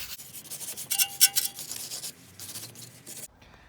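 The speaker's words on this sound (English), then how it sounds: "Just use a metal brush." A metal wire brush scrubs a BMW E90 brake caliper, uneven bristly strokes close up, louder in a short burst, then stopping suddenly.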